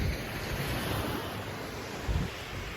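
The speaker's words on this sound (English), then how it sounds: "So Madeira Beach has these breakers" Ocean waves breaking on Madeira Beach, Florida, a steady broadband roar of surf with wind, swelling slightly toward the end, with no voices over it.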